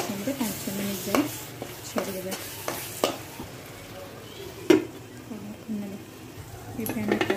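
Masala for chicken kosa frying on a medium-high flame, a soft steady sizzle broken by repeated scrapes and clinks of a spoon stirring against the pan.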